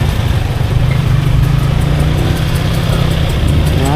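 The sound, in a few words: road traffic with engines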